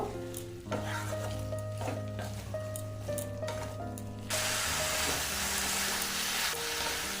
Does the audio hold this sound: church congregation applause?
no